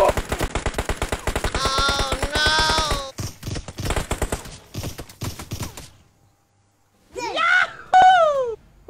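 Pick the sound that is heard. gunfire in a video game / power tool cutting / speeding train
gunfire in a video game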